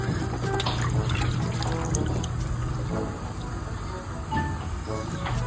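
Tap water runs steadily over pork intestines being rinsed under a faucet, a continuous close splashing trickle with faint high chirping in the background and no talk.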